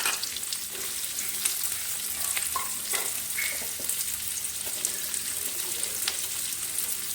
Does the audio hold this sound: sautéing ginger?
yes